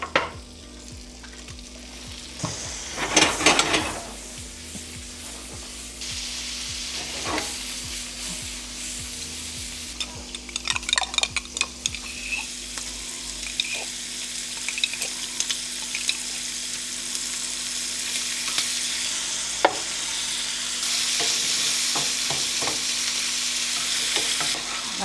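Shrimp fry in butter in a hot pan, with a close, rising sizzle, bursts of spatula scraping and stirring, and bubbling crackle that grows denser toward the end. No one talks.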